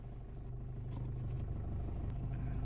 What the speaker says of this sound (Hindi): हाँ, देखिए आपकी गाड़ी मूव होने लगी।